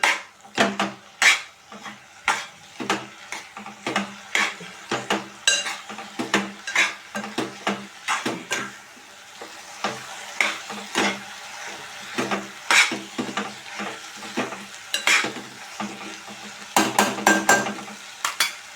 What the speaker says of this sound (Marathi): गॅसची फ्लेम आता मीडियम ठेवूया चांगले परतून घेते मी